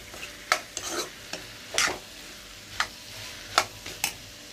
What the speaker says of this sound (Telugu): టమాటో కట్ చేసి పెట్టుకున్న టమాటో ముక్కలు వేసి కలిపేసి